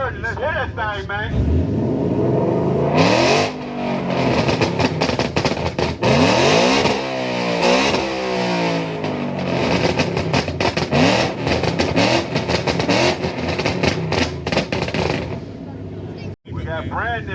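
At a Mustang exhaust and burnout competition at Daytona, a Ford Mustang engine revs loudly up close in long sweeping climbs and short blips, exhaust blaring over crowd noise and voices.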